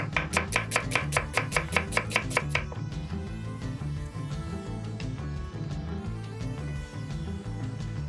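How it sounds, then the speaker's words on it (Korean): An onion sliced thinly with a knife on a board, a quick run of evenly spaced, crisp chops up close followed by softer blade sounds over steady background music. "양파의 매운맛이 싫은 분들은 이렇게 얇게 썰은 후에 물에 잠시 담가뒀다 사용하세요."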